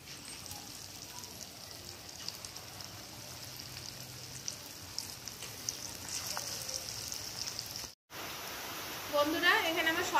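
Onion pakoras (piyaji) deep-frying in hot oil give a steady, soft sizzling hiss that runs throughout, with a brief cut and a few louder crackles near the end.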